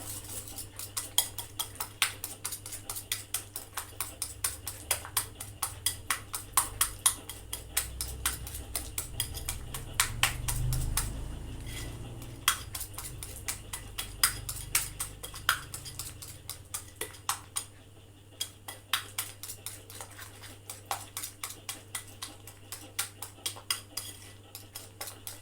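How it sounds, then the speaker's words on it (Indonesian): A utensil whisking a mixture in a bowl, producing fast, regular clinking taps against the bowl's sides that continue for a long stretch, with a low hum underneath and a short pause partway through. "Ini terus dikocok."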